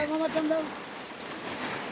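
Rain patters steadily on a trawler moored on a river, a continuous close hiss of drops with a few brief voice-like tones early on.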